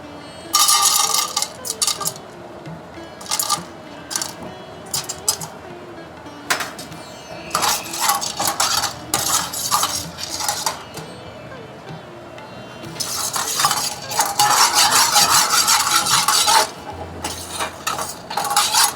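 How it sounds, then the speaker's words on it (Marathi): Sandge, dried lentil dumplings, roast in a little oil in a pan in a hotel kitchen, with intermittent metallic clinks and scrapes of stirring and bursts of louder rattling, under a voice talking. "त्यासाठी आपण सुरुवातीला थोडंसं तेल घेतलेलं आहे आणि त्यामध्ये आपण आपले सगळे सांडगे जे आहेत ते थोडेसे भाजून घेणार आहेत सुरुवातीला"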